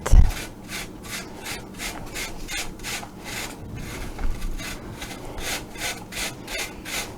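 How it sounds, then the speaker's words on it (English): Apples being grated by hand on a grater, a steady run of rhythmic rasping strokes, close and fairly loud, with no talking. "Then we're going to grate the apples"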